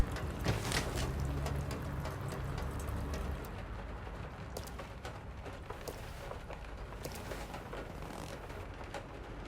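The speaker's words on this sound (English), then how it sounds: "Look how quiet the rain got." Quiet, steady rain in the game Detroit: Become Human, a soft continuous patter with faint scattered drops throughout, no voices over it.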